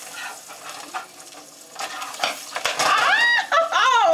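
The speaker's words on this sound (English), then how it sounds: "I'm cooking breakfast and doggone eggs is popping the heck out of me." Eggs frying for breakfast in a pan, close sizzling with scattered pops and sharp metal clinks of a utensil, then a high, whistling squeal toward the end.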